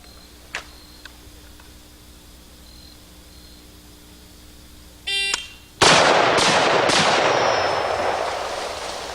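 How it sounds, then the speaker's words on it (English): A shot timer beeps, then an M1A rifle fired off the shoulder at a range cracks three times in quick succession, loud and close, each shot trailing into a long echoing wash. "Again, 3 aim shots with the M1A today off my shoulder."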